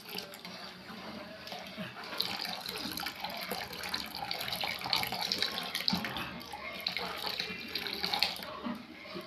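Dissolved starch mixture trickled slowly into orange milk pudding (mahalabiya) cooking on the stove, making a soft continuous liquid pouring and splashing wash, faint and steady throughout with no speech.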